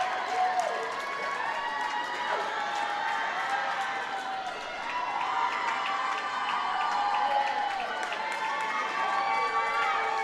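The crowd at a girls' swim and dive meet between Moorhead and West Fargo cheers on a swimmer finishing in lane 4, a continuous dense roar of shouting and whooping that holds throughout with slight swells.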